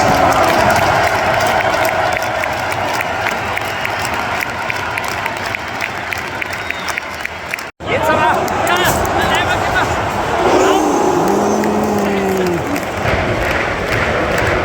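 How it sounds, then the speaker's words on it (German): A large stadium crowd at an Austria vs Turkey international football match in Vienna's Happel stadium applauds and cheers loudly and continuously for a player, with a brief dropout midway and a few tonal calls rising above the roar near the end. "Einen kräftigen Applaus für Michael Gregoritsch!"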